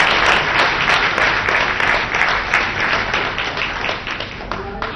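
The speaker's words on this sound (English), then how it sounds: "round of applause" Studio audience at an Indian television show breaks into a sustained round of applause, dense steady clapping filling the space with a few louder individual claps standing out.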